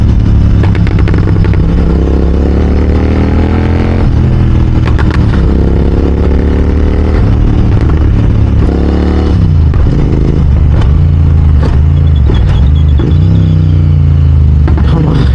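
A Royal Enfield GT650 motorcycle ridden through city streets at night, its twin-cylinder engine rumbling loud and steady throughout, with rising and falling revs as the rider downshifts and engine-brakes, accompanied by traffic and road noise.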